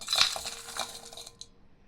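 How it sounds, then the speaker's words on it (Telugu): A cup of pounded jaggery drops into a bowl for panakam, making a short hard clatter of pieces at the start that quickly fades into quiet. "ఒక కప్పు బెల్లం అందులో వేసుకోవాలి."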